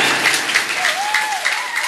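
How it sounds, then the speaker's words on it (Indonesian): Close, loud applause from a congregation at a humorous Islamic sermon, a dense steady wash of clapping with a faint sustained voice-like tone gliding underneath partway through. "tepuk tangan untuk orang Ciandam"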